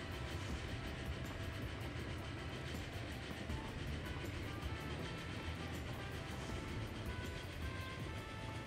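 A commuter train runs in the Transport Fever 2 video game, giving a steady, dense rumble with faint rhythmic clatter that holds at an even level throughout, with no talking.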